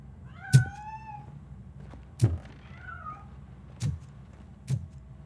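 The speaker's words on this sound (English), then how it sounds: "That cat must be hiding inside." A cat meowing in the video game RoboCop: Rogue City, several drawn-out meows spaced a second or two apart, each with a sharp thump, in a quiet indoor scene without talk.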